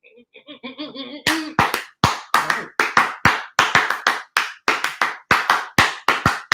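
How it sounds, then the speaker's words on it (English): A single person clapping hands in a steady series of sharp, close claps, preceded by a brief soft giggle, with no talking over the claps. "here come the clap!"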